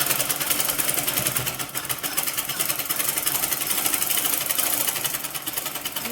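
Sewing machine stitching seams on a dress, a steady, loud, continuous whirring drone that runs alone throughout.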